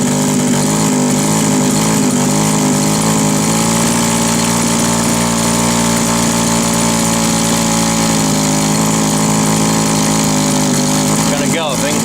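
An old two-stroke strimmer with a 20:1 fuel mix and a carburettor that won't rev sits at a steady idle, loud and close, its buzzing drone unbroken until a brief rattle near the end.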